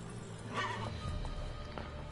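Roach, Geralt's horse in the video game The Witcher 3: Wild Hunt, gives a short whinny over a low, steady game ambience, with a faint hoof thud or two afterward.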